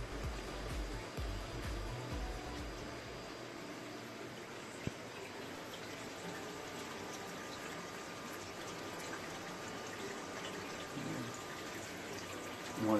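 Water pours steadily down pipes into the custom sump filter of a 220-gallon aquarium, a constant soft rushing and trickling hiss, faint and unbroken, with one small knock midway.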